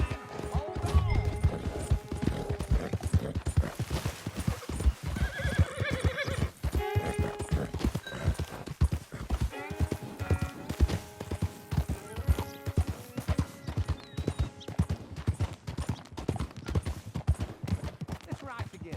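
Horses in Red Dead Redemption 2 trot with steady clip-clop hooves and let out whinnies, with talk layered over the hoofbeats throughout.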